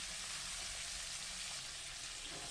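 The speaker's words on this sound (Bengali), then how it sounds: "ব্যাস, এবার আমি পেঁয়াজগুলো দিয়ে দিলাম।" Onions frying in hot oil in a wok for a Bengali chicken curry, a steady close hiss and crackle of sizzling that continues unbroken.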